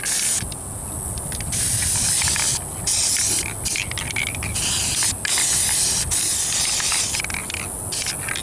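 An aerosol spray can lays a first coat of paint on the rear differential of a 1998 Ford Ranger 4x4 with a 3.0 engine, producing several loud, close hissing bursts separated by brief pauses, with no talking.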